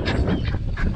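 Ducks pecking at grain alongside a rooster let out a quick cluster of close, raspy quacks, several overlapping calls within a single second.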